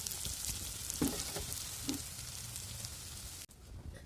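Sea fish fry in hot oil at a Bangladeshi village cooking setup, giving a steady, dense sizzle throughout with a couple of soft stirring knocks, close by and alone.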